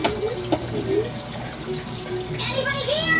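Tap water runs steadily while soapy hands are rinsed under it, a continuous splashing hiss with faint voices nearby.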